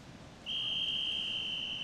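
A referee's sustained starting whistle at an Australian short-course swimming championship pool, one long steady high tone beginning about half a second in and held to the end over quiet venue ambience.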